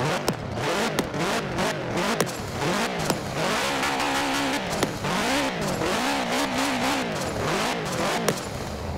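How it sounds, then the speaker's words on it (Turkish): A Subaru Impreza WRX STI engine in Forza Horizon 4 revs repeatedly at idle with the handbrake on, rising and falling in steady bursts, loud and close with a slightly synthetic, game-like tone. "Şöyle bir rölantide gazlayalım bakalım boşta."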